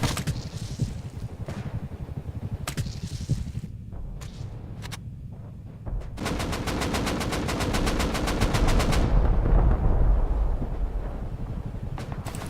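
Video game gunfire, sharp scattered shots followed by a long rapid burst of automatic fire amid loud rumbling battle noise, dense and continuous with no talking.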